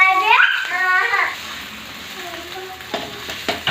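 Ginger and garlic paste hits lightly fried onions in a pan for a shoal fish curry, giving a continuous hiss and sizzle. A voice is briefly heard at the start, and a few stirring knocks come near the end.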